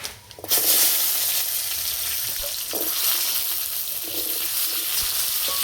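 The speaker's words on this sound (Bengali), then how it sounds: "এই তেলের মধ্যে দেবো গোটা সর্ষে, কেটে রাখা আমড়া" Whole mustard seeds and chopped hog plum sizzle and crackle loudly in hot oil, with a sharp burst as they hit the pan and then a steady, close frying hiss.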